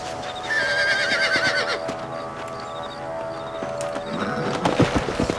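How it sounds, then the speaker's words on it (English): A horse in the Red Dead Redemption video game whinnies loudly and then breaks into a run, its hoofbeats clopping under the steady game background sound. "o cavalo disparou a gente subindo"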